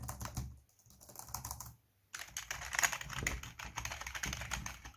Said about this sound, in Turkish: mekanik olmayan bu oyuncu klavyesinin çıkardığı sesi duyabiliyorsunuz